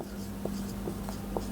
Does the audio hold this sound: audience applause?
no